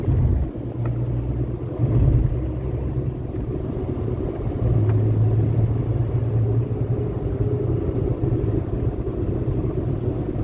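A Volkswagen Ameo car engine in sport plus mode with a throttle controller: a steady low rumble with wind buffeting, rising slightly in intensity for a few seconds before holding at a strong, even drone.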